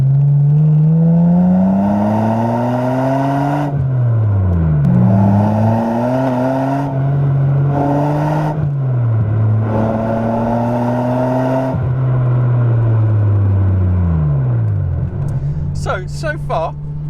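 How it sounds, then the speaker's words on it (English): Ferrari 550 V12 with a Nuvolari exhaust, loud and close, pulling hard through several gears with rising engine notes and sharp drops at each shift, a voice talking over it near the end. "So you can actually hear that absolutely fabulous engine"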